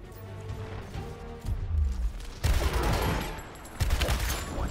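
Gunfire in the tactics video game Gears of War Tactics: dense, loud bursts of shooting and impacts that swell in several waves over a few seconds, with no talking.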